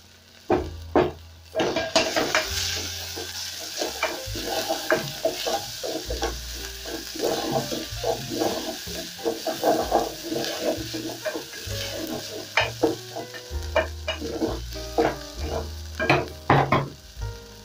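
Onions and ginger fry in a pot, a steady close sizzle broken by frequent scraping and clinking as a utensil stirs against the metal pot, no voices over it.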